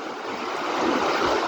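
A steady broadband rush of flowing water, loud and constant without pauses, from the fast mountain Assa River heard close by in the Dzheyrakh gorge, Ingushetia.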